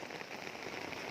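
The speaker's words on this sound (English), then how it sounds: "Very nice raining today in Singapore." Steady rain falls in Singapore, a dense continuous hiss of drops hitting surfaces nearby, even and unbroken with no voices.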